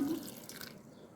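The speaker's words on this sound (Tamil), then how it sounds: "இந்த அளவுக்கு தண்ணி விட்டு வைக்கிறேன் பாருங்கள்" Water poured into a cooking pot of vegetables, with kohlrabi tubers set to boil for a coconut milk curry, giving a brief, close, steady splashing trickle with no voices.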